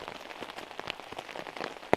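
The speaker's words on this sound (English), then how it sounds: "just camp in the flipping rain" Heavy rain patters on the surface around a solo hammock camp, a dense close spread of drops with one sharper splat near the end.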